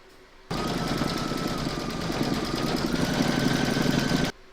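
An embroidery machine stitches a round, a steady loud mechanical whir with a rapid needle rhythm, starting abruptly and running evenly before cutting off, with no talking.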